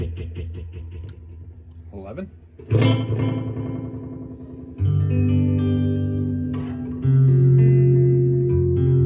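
A refurbished vintage Ace Tone EC-10 tape echo machine adds reverb and echo to a sustained electric tone, building in layered swells that grow louder in steps, with a faint voice underneath.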